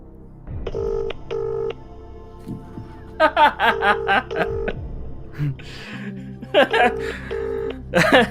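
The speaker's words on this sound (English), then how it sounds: "I'm gonna phone this person" Telephone keypad dialing to phone a friend during a mock Millionaire game, a series of short beeping tones with laughter and chuckling mixed in between.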